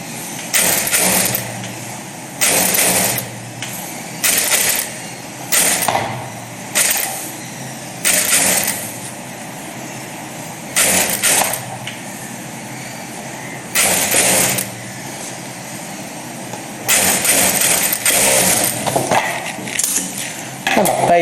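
A sewing machine stitches a fabric band in repeated loud bursts of rapid whirring, each lasting one to two seconds and separated by short pauses, with a faint background hum between runs.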